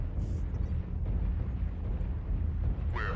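Airstrike explosions in the MechWarrior Online video game: a dense, continuous low rumble of blasts that rolls on for the whole stretch, with a brief higher whine near the end.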